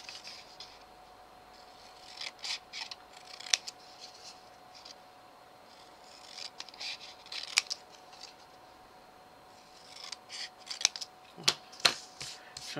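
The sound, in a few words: scissors cutting paper triangles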